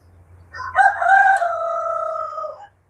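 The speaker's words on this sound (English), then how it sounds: "I might have to go make that rooster be quiet." Rooster crowing once on a homestead, a loud close cock-a-doodle-doo of about two seconds over a quiet low hum.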